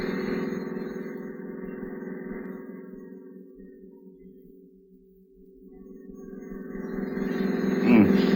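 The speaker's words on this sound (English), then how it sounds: "I hope you don't mind me driving so fast." A car engine drones steadily at speed as a radio drama sound effect, fading slightly mid-way and swelling back louder near the end, with no talk over it.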